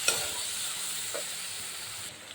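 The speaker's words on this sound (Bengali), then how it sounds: "আবার মশলাটাকে আমি সুন্দর করে কষিয়ে নিই" Spice paste for a rustic chicken curry, with chilli water and turmeric, sautéing in a pan: a steady hissing sizzle with a couple of brief stirring scrapes, close and continuous, with no talk.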